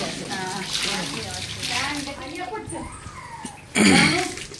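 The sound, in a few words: water poured during bath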